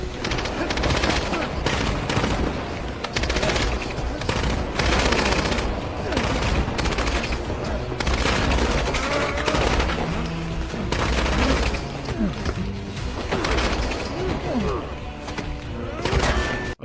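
Rapid cartoon gunfire bursts fill the whole stretch, standing in for a spitball fight in an animated scene, with dense repeated thuds and booms, loud and continuous, and some voice-like sounds mixed in.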